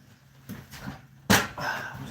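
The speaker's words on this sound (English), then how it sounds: "What was that about? Door slamming?" A door slams shut with a sharp, loud bang in the middle of a quiet room, followed by a brief rattle and low background noise; two softer knocks come just before it.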